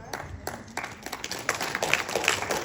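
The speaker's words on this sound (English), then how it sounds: "That was a forced applause" An audience at a comedy show in Ridgecrest gives a brief, sparse round of clapping, scattered claps that build slightly over a couple of seconds.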